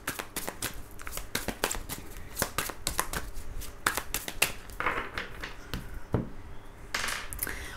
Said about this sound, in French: je vais tirer quelques cartes du tarot